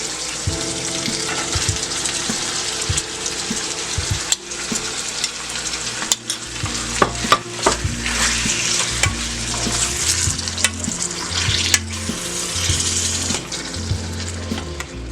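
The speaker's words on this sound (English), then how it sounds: "I'll add the paneer to it." Paneer, onion and capsicum sizzle steadily in a pan on the stove, with frequent scraping and clinking stirs of a spoon against the pan throughout, close up and with no talking.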